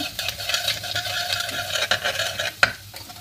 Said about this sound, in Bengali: অল্প হিং দিয়ে দিলাম, হিংটা একটু তেলের মধ্যে নেড়ে চেড়ে নেব।